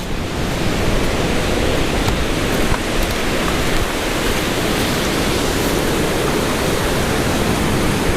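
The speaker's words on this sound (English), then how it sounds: "And there's some more falls the other side." Waterfall in Braemar village, Aberdeenshire, Scotland: a steady, loud broadband roar of falling water running unbroken for the whole stretch, with no voices.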